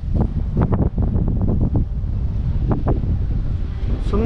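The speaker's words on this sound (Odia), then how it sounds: "ଚାରିଆଡ଼େ ପବନ।" Strong wind gusting steadily outdoors in Berhampur under rain clouds with lightning, a loud continuous rush buffeting the microphone, with a few brief bursts of voice or sound rising briefly above it.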